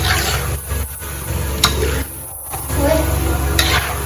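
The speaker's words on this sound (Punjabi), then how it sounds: "ਆਪਣੇ ਸਨੈਕਸ ਉਧਰ ਡੀਪ ਫਰਾਈ ਹੋ ਰਹੇ ਨੇ" Sooji and potato snacks deep frying in hot oil, a steady close sizzle and bubbling with occasional stirring clinks from the pan.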